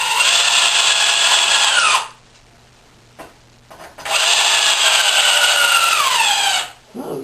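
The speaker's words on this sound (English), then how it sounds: "Oh, now the drill's done." A cordless drill drives screws into wood for an outfeed table, two loud whirring bursts of about two and three seconds each with pitch dropping as the screws seat, separated by a quiet gap with faint handling clicks.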